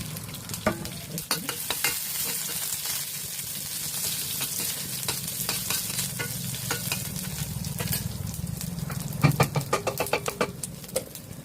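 Dried red chillies and curry leaves frying in oil for a tomato dal tempering, a continuous crackling sizzle with repeated spatula scrapes and stirs, busier toward the end, with no speech.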